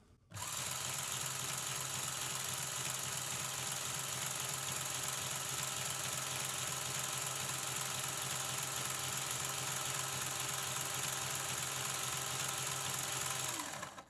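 A homemade drawing machine driven by a worm gear runs steadily at close range, giving a continuous mechanical whir and hum with a dense high-pitched motor whine that starts abruptly and holds evenly for about thirteen seconds before stopping.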